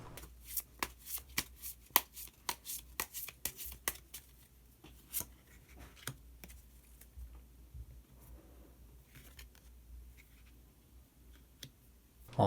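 Tarot cards are shuffled and drawn in a series of crisp, close clicks and riffles, dense at first and then sparser, faint and with no talk.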